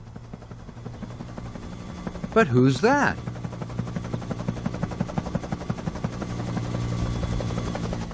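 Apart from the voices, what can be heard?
helicopter flying, from Thomas & Friends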